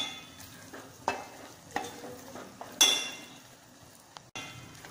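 Spice masala being stirred and roasted in oil in a pan for stuffed capsicum, with soft sizzling under repeated scraping strokes and light clinks of a spoon, close up and no talk.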